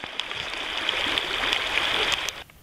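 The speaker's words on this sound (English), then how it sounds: "That little stream." A small mountain stream on the Lake Fork flows with a steady, soft rushing and light gurgling, close by and alone, then fades at the end.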